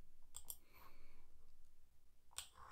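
A computer mouse clicks a few times on a web page, quiet sharp ticks that come in a pair near the start and another pair near the end, with faint room noise between them.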